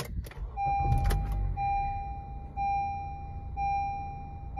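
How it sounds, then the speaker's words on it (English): A 2016 Honda Accord Sport starts up with a short low crank that settles into a low, steady engine idle under a repeating electronic chime. "we're going to do a startup on this Honda Accord."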